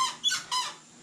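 Squeaky rear suspension on a motorcycle-style vehicle being worked on in a garage, two or three short high creaks in quick succession, close and alone.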